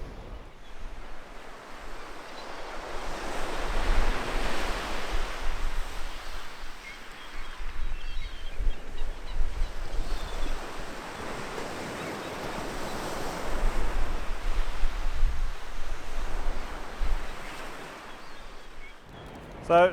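Sea waves rolling onto the shore at Happisburgh lighthouse beach, slow swelling washes of surf rising and falling about every five seconds, with wind noise buffeting the microphone.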